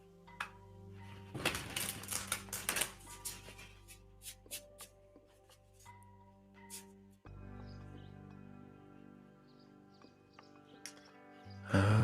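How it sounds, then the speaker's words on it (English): A brief, crisp rattle of tarot cards being shuffled, then sparse light taps and clicks over steady soft background music. "let me shuffle once more"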